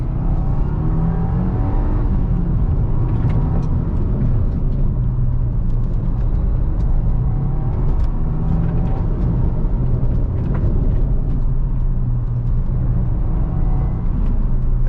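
The large-capacity 4-cylinder engine of a 2022 Subaru WRX drones steadily while driving. A low, continuous rumble mixes with road and wind noise at a constant level throughout, with no speech.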